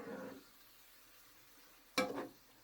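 A spoon scrapes and clinks once through peppers in a pan, a sharp short stir standing out against a quiet, faint sizzle, after a brief murmur at the start.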